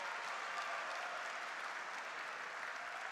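Table tennis crowd at the Polish Open semifinal, a steady wash of applause and cheering from a large indoor audience, continuous and fairly distant.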